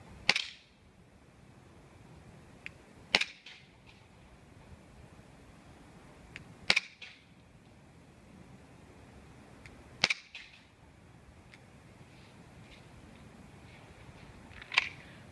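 Gas-powered airsoft pistol fired in a slow, evenly spaced series of five sharp cracks about three seconds apart during drills, each shot crisp and short against a quiet background.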